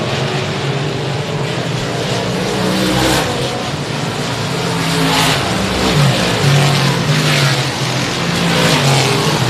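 Race cars circling the Sabine Speedway short track in a Super Short Track Series event, a loud, continuous engine roar that swells and fades as cars pass by, with no voices heard.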